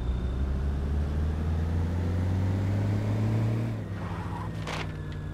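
A car in the zombie survival game State of Decay drives with a loud, steady engine drone that fades somewhat toward the end, where a short skid-like burst cuts in.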